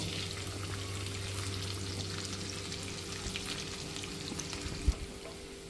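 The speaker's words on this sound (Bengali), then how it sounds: "এবার আমি এখানে যে মশলা মাখানো চালটা আছে সেই চালটা কড়ার মধ্যে দিয়ে দেব।" Spiced rice tipped into a hot kadai where raisins were just fried for Bengali basanti pulao, giving a steady, close frying sizzle with a sharp clatter near the end.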